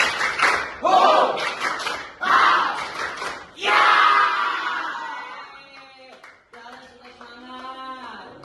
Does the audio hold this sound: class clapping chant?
yes